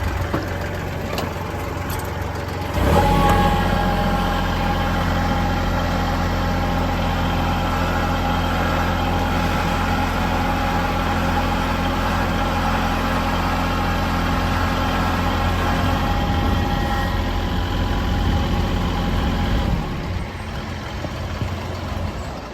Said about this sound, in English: I'm going to move the tractor out from underneath the power lines